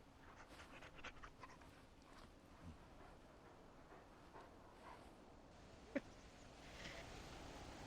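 A dog pants in a video game, quick soft rhythmic breaths that are faint and continuous under quiet ambience, with one sharp click near the middle.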